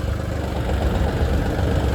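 A tractor engine runs steadily in a farm field being prepared for potatoes, a continuous low rumbling drone at moderate distance with no voices.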